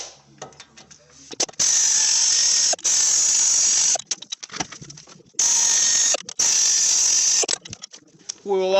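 A ratchet with a socket clicks rapidly in quick bursts while working on the axle of a Dodge Ram 2500 truck, interspersed with long, loud steady whirring runs, close by.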